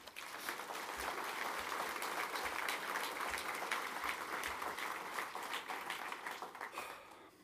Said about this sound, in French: Je vous demande de bien vouloir les applaudir.